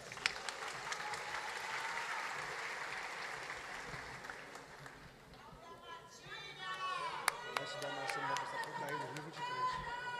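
Crowd applause at a political rally for a cultural gathering in Pará, Brazil, loud and steady for about five seconds, then dying away as chatter and a voice on a microphone take over.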